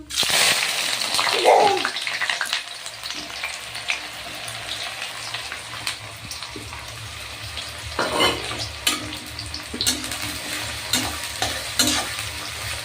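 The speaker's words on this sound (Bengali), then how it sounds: "ভালো করে পেঁয়াজটাকে ভেজে নেব।" Chopped onions fry with a little sugar in a pan for chicken kosha, making a steady crackling sizzle. Intermittent scraping and stirring strokes come in bursts throughout, close and fairly loud.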